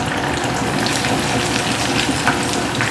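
Pork chops deep frying in hot oil give a steady, loud, dense sizzle with continuous crackle and bubbling and no break over the whole stretch.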